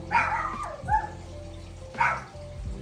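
Two sharp dog barks about a second apart, close by, with a quieter bark trailing at the end and no talking.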